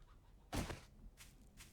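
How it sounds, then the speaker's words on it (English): Chickens in the video game 7 Days to Die give a few short, faint clucks, one clearer cluck followed by two softer ones, with no talk over them. "Oh, more chickens."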